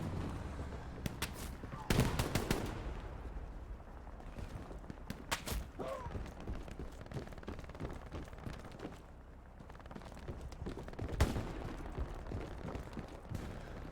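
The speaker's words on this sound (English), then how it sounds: "do you need me to blow some holes in them with this machine gun?" Machine gun fire in the World War II shooter Hell Let Loose, scattered bursts and distant booms in a busy battle soundscape, mid-level and partly distant, with no clear speech over it.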